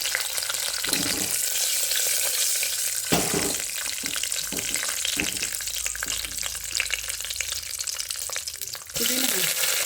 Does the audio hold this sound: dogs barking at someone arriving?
no